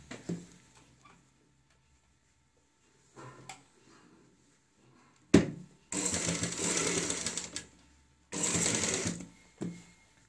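A sewing machine stitches piping on a kurti neckline in two short, loud bursts, separated by quiet pauses and light handling sounds.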